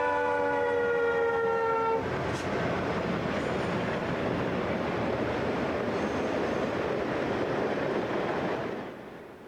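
Union Pacific southbound freight train passing beside the Mississippi River, opening with a loud multi-tone horn blast that gives way to a steady roar and clatter of wagons rolling by up close, fading slightly at the end.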